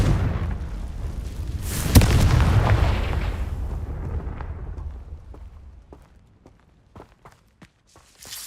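A Confringo fire spell in Hogwarts Legacy goes off in a sharp, loud blast followed by a long rumbling decay, then a few light footsteps and small taps as things settle.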